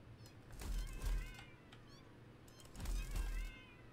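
Cats in the video game Satisfactory meow repeatedly, two clusters of plaintive, wavering meows with soft thumps beneath, fairly faint and with no speech over them.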